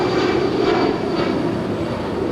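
A jet airliner departing from Los Angeles International Airport roars as a loud, steady, broad engine rumble, close and continuous, with no other sound over it.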